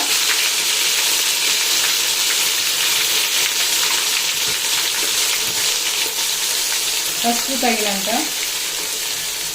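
Ginger frying in a pan for gongura pickle, a continuous loud sizzle and crackle of hot oil, with a short burst of voice-like sound near the end.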